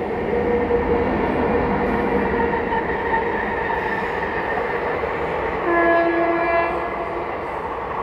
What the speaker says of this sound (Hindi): अजमेर किशनगंज गरीब नवाज एक्सप्रेस